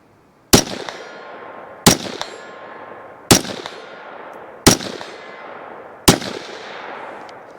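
Five sharp rifle shots from a KelTec CMR30 fired at a target 75 yards out, each a loud crack with a ringing decay, spaced roughly 1.4 seconds apart in a steady rhythm.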